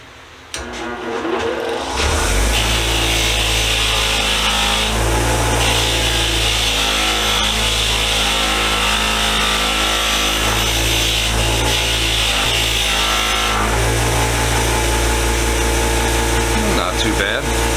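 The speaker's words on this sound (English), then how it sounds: "I'm just gonna throw all of it on the wire wheel" A bench wire wheel stripping old japanning from an antique 1877-patent keyhole saw, a loud, continuous abrasive whir and grind that spins up and holds steady, with slight changes as the workpiece is pressed in.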